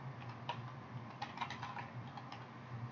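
Quiet keystrokes on a computer keyboard as text is typed, a few soft clicks scattered over three seconds against faint background hiss.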